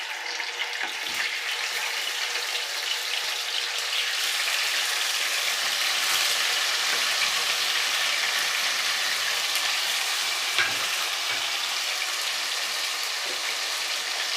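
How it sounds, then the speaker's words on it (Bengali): Paneer pieces frying in white oil in a pan give off a steady, loud, bright sizzle, like hissing rain, that holds evenly throughout with no talking. "প্রথমে পনিরটা আমি ভেজে নেব"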